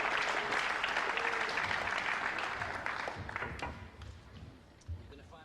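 Brief clapping from a small crowd at a 9-ball pool match, fading over a few seconds, with a thump near the end.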